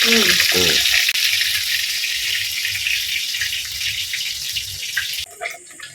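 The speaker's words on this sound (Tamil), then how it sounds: "குட்டி மீன் இன்னைக்கு மீன் பொரிக்க ஆரம்பிச்சாச்சுங்க." Loud, continuous crackling sizzle of small fish frying in hot oil, close by, easing off near the end with a few softer clatters.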